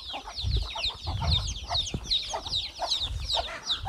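Chickens at a Thai village farm cluck and chatter in a busy, continuous flock, with repeated short calls layered over low rustling, fairly close and steady throughout.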